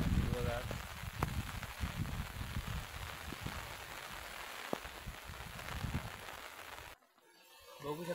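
Rain falls steadily on a green rice farm in the Konkan countryside, a dense continuous patter with a few sharper drops, ending in a near-silent gap before the rain noise returns.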